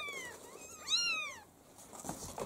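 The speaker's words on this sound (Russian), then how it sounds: "Вот это кошка." A young kitten meows in a few rising and falling calls, one louder cry standing out near the middle, heard up close in a quiet village home among a new litter of white, black, ginger and grey kittens.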